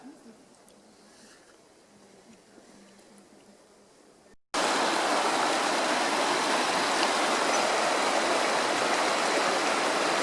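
A Wyoming river rushes loudly and steadily nearby, a dense broadband roar that begins abruptly after a few seconds of quieter outdoor ambience.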